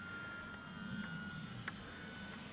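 An Easy Glider model airplane with a smoking motor drones steadily and faintly at a distance, a thin continuous hum with one brief brighter blip, and no voices.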